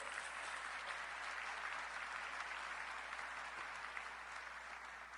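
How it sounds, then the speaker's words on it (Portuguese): Steady applause from a church congregation in a Portuguese-language service, continuous dense clapping held at an even level throughout, with no voices above it. "se for para o Senhor, pode aplaudir"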